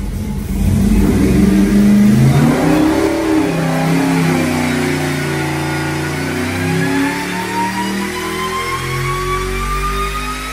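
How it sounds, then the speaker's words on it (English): A high-performance V8 with a counterweighted crank, hydraulic roller cam and shaft rockers revs hard on a dyno, a loud climbing roar sweeping upward toward 7,000 rpm, sustained and close with no talking. "Now watch this baby rev."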